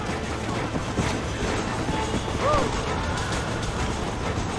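A train rolls past in the Red Dead Redemption video game, a steady mechanical clatter of rail cars sustained throughout at moderate loudness, with a brief squealing tone partway through.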